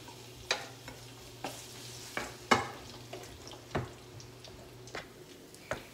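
Garlic fries in heated oil in a pan with a quiet, soft sizzle, punctuated by about eight distinct taps and scrapes of a utensil at an irregular pace.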